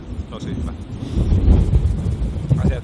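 A strong wind buffets the microphone in gusty, rumbling bursts during a hike in the Lapland wilderness near Lake Inari and Vätsäri, while a person talks.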